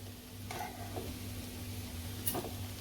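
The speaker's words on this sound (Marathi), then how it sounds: "आता एक मिनटं आपण परतू परतून घेऊया फक्त ओपनमध्येच" Sabudana khichdi being stirred in an open pan, a soft steady sizzle with a couple of light scraping strokes of a spoon, quiet and close with a faint background hum.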